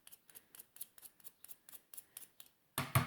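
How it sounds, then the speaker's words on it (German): Scissors snip repeatedly in a steady rhythm, about a dozen close, crisp cuts through paper, followed by a louder burst of rustling at the end. "Eine Schere."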